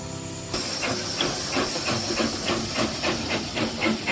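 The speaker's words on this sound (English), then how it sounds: "A rare chance to experience a Victorian vertical boiler engine close up." Loud, steady hiss of escaping steam from a Victorian vertical boiler engine bursts in after a brief mechanical rumble and continues without a break, with faint rhythmic chuffing beneath.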